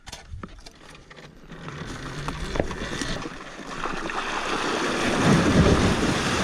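An Armstrong XR-E electric dirt e-bike splashes through cold water, giving a rising, continuous wash of spray and surging water close by, with wind buffeting the microphone throughout.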